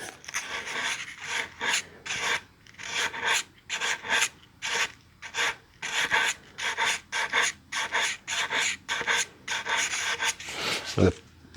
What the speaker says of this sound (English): I'm using a piece of paper that I used considerably on the rest of this, so it's pretty worn down, so I'm not as concerned about going both directions.